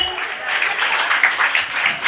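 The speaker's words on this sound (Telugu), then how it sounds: "చప్పట్లు కొట్టండి." Audience clapping at a pre-Christmas church celebration in Nellore, a steady dense patter of many hands held at moderate loudness throughout, with no pause or build.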